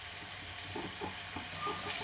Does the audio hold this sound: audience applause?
no